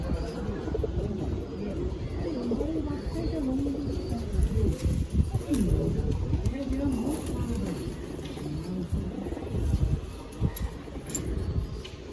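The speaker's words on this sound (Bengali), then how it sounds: "লংদমা পায়রা, মাদি পায়রা, ধাড়ি পায়রা" Several giribaz pigeons at a pigeon market coo in rolling, throaty calls, repeated throughout amid constant background chatter and market noise.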